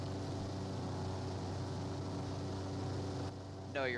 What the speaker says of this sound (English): is the engine noise too loud?